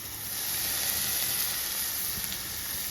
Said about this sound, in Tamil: இந்த இஞ்சி பூண்டு நல்லா வதங்கிடுதுங்க